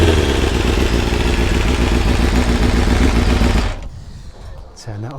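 A BMW S1000RR sport motorcycle's shift cam engine idles loudly up close at Brands Hatch, with a rattly, clattering mechanical tone, then cuts off and falls quiet apart from a brief voice.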